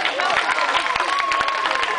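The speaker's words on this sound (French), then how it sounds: "Vous pouvez les applaudir" Festival crowd applauding a band at a final concert, dense clapping and cheering blended with crowd noise and a lingering musical tone, steady and moderately loud.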